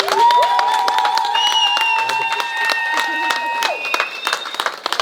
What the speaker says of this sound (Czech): Zatleskejme novomanželům Januškovým.